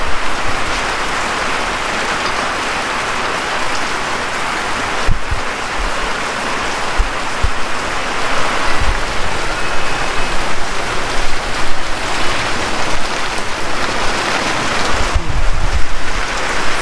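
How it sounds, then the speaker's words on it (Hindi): Heavy rain pouring down outdoors on Chand Raat, a dense, loud, continuous hiss of falling water with a few brief thuds, steady from start to finish and with no talking. "Finally it's raining heavily."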